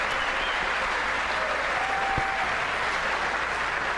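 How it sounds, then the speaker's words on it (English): Steady clapping from a large audience at the State of the Union address, a continuous dense wash of applause with no individual claps standing out. "clapping"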